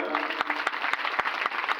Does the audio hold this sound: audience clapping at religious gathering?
yes